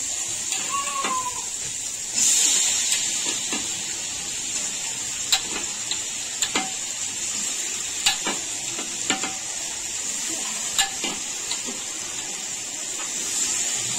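Potato and mixed vegetables sizzle steadily in a frying pan, a continuous hiss punctuated by sharp scraping clicks of stirring at irregular intervals.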